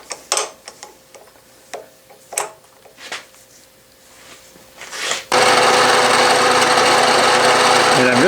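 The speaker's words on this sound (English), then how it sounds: "I'm just going to machine it so that it's about 3/16 of an inch across that chamfer" An end mill with 45-degree corners cuts a chamfer on a part for the Yellow Boy steam engine: faint scattered scrapes and ticks, then a loud, steady, continuous cutting whine that starts suddenly and carries on to the end.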